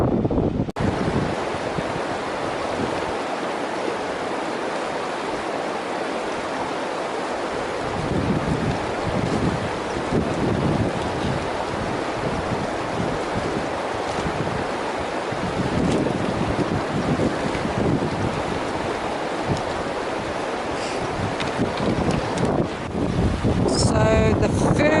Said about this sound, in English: So the first half of that river crossing was probably getting close to my limit where I would turn around.